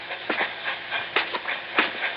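A train rolls along railroad tracks behind a run-down apartment, a radio drama effect of steady rumbling hiss with rhythmic clickety-clack beats from the wheels, continuous and fairly close.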